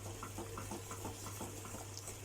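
A wire whisk stirs béchamel in a pot with a steady, rhythmic scraping, each stroke faint and close over a constant low hum, with no voices.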